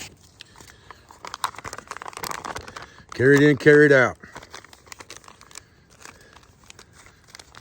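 An empty plastic food bag crinkles and rustles in bursts as it is packed away as trash, with someone talking briefly in the middle.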